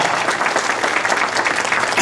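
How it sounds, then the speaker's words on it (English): An audience applauds at a state senator's campaign kickoff event, with dense, steady clapping held at a constant level from start to finish. "Peter Fisher, how about a round of applause?"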